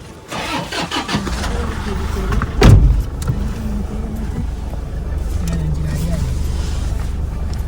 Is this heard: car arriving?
yes